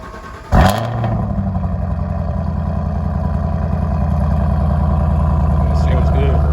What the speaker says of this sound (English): I'm gonna give y'all the last cold start